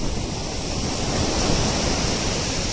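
Sea waves surge and wash continuously up close, a steady broadband roar of surf with no voices over it.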